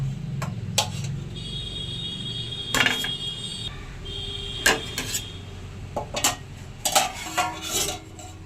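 Metal pot of boiled ash gourd being lifted off a gas stove, with several sharp clanks and scrapes of metal on metal over a steady low kitchen hum, fairly close.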